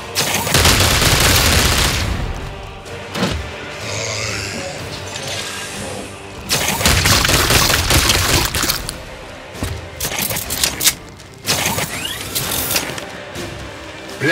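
Dense bursts of gunfire and explosions from the Warhammer 40k: Chaos Gate video game, loud and close, with heavy volleys, booms and shattering impacts broken by brief lulls.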